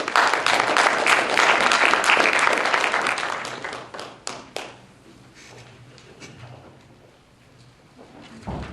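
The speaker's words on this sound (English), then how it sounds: "give a big round of applause to all of the young scholars" An audience at a forum showcasing young scholars breaks into loud applause, dense clapping for about four seconds that thins into a few scattered claps and quiet room noise.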